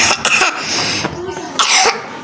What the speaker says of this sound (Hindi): चलो जी, खांसी सुन लिया आपने मेरे बेटे की।